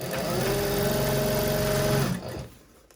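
A sewing machine runs a basting stitch along a handbag lining in one steady, close, continuous whir for about two seconds, then stops and winds down, with no talk.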